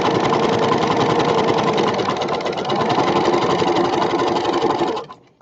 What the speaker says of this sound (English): always make sure you sew backwards to lock your stitch just a little bit